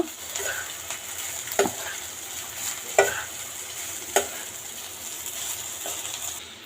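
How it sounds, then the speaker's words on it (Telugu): Chicken fried rice cooked street-food style is stirred in a hot pan: a soft continuous sizzle broken by a few sharp scraping clanks of the spatula against the pan, close up and without speech. "చూడండి రైస్ అంతా నేను బాగా కలిపేసుకున్నాను"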